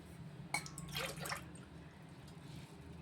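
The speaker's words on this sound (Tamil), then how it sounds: "மூணு டம்ளர் தண்ணி ஊற்றி" Water splashes briefly into a pot in a short pour, about three tumblers' worth for cooking kesari, then fades to quiet.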